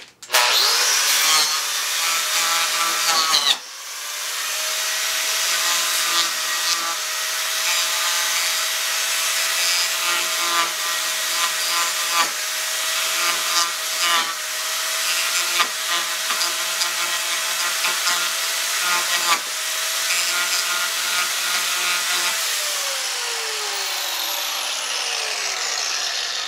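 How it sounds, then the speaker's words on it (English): A small power tool grinding wood, like a wood-carving grinder, with a steady high whine and harsh rubbing abrasion, loud and close, briefly interrupted before running continuously and winding down at the end. "I guess essentially like a grinder, but for wood"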